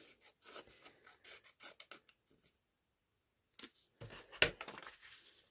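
Scissors trimming paper for an envelope junk journal, a run of quick close snips and rasps, a silent pause, then a few more cuts, all fairly soft.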